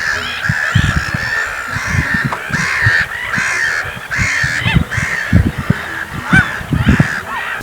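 Black-headed gulls calling loudly: a close, continuous chorus of harsh, raucous cries repeating in overlapping bursts, with no talking.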